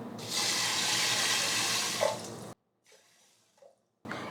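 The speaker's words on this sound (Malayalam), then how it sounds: "ഇനി ഇതിലിട്ട് വെള്ളം ഒഴിച്ചു കൊടുക്കാം" Water runs steadily into a pressure cooker for a couple of seconds, then stops, followed by a few quiet splashes and drips.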